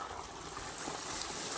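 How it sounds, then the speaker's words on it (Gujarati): Water pump motor pushes out a steady rushing stream of water, a constant noisy wash heard alone without talk. "તો બસ આવી રીતે પાણી કાઢે છે આપણી મોટર."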